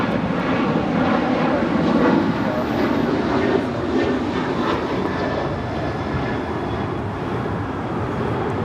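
A United Airlines Boeing 737-900ER jet departs Los Angeles International Airport bound for Denver. A heavy, sustained engine roar rumbles at a distance, swelling slightly early and then holding steady.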